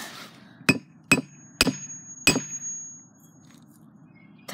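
Hammer striking a lava lamp, four sharp metallic clanks in quick succession, the last ringing on with a thin high tone before fading.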